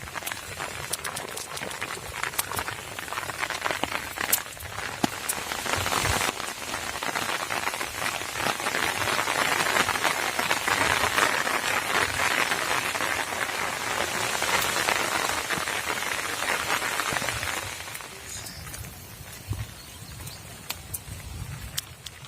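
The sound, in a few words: rain falling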